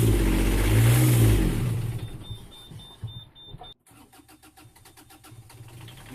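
A boat's diesel engine turns over and catches after its fuel line was bled, loud and rough at first, then settling into a fainter uneven chugging idle with a brief dropout partway through.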